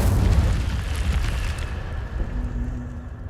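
A fire spell being cast in the video game Hogwarts Legacy, heard as a loud, dense blast that lingers as a rumbling roar and slowly fades, with no speech over it.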